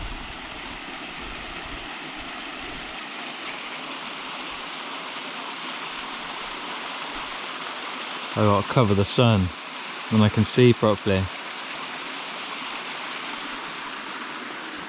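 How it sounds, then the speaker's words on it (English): Steady broadband rush of a waterfall continues throughout, with someone speaking briefly close by partway through. "I've come to a waterfall to make things better."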